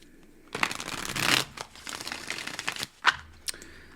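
Tarot cards being shuffled in a few quick riffling bursts with papery flicks and pauses between, close and fairly quiet.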